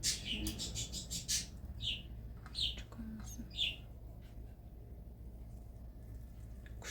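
Small birds chirp in quick, high bursts, clustered at the start and then more scattered, with quiet background hum in between.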